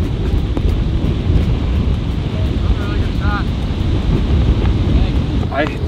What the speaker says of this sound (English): we have so much wind going this way